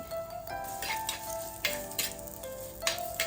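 A medium onion drops into a tablespoon of hot coconut oil and fries, a soft crackling sizzle with several brighter hissing bursts, heard close and fairly quiet over faint steady tones.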